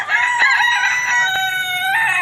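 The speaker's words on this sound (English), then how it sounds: "This is a rooster." A rooster crows close by in one long, loud, sustained cock-a-doodle-doo, bright and wavering throughout with no pauses.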